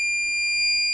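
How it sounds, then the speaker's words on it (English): A battery management system emits a continuous high-pitched electronic beep without pause, steady and piercing, with no other sounds. "a fairly long beep, a super long beep,"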